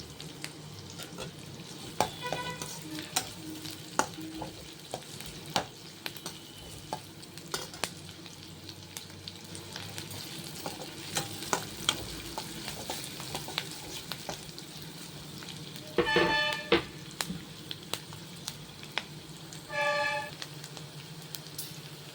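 Onions stir-frying in a pan for egg Schezwan noodles give a steady close sizzle, broken by sharp scrapes and clinks of a utensil against the pan, with a few louder bursts of stirring near the middle and end.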